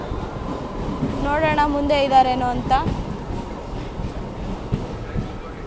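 The 17348 SSS Hubballi MEMU Express rolls into platform 1 with a steady rail rumble and a brief tonal wail, while someone talks close by.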